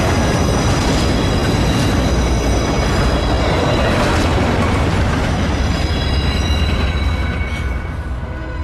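A subway train rushes past at close range, a loud, dense roar of wheels and rails with metallic squeal, steady for the whole stretch before easing slightly at the end.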